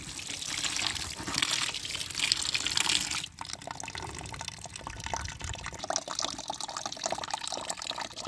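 Water splashes into a mixture being prepared for solid jivamrut fertilizer, a loud gushing pour for about three seconds followed by softer trickling and dripping, close by with no speech.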